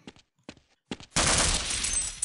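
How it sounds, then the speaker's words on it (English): Original shotgun blast in Half-Life: Blue Shift at a firing-range course, one loud, sharp, close report ringing out after a few short quiet clicks and taps. "I'm glad they kept the original shotgun"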